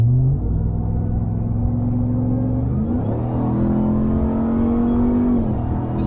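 A supercharged Ram TRX pickup revs from inside the cab, a loud, smooth engine drone that climbs in pitch, dips at a shift, then climbs again.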